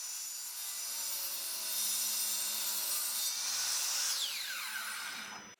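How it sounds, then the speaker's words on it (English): Miter saw trimming the ends of glued-up wood pieces for a shelf, a loud steady whine of the spinning blade cutting through wood, then winding down and stopping abruptly near the end. "trim the ends to their final length on the miter saw"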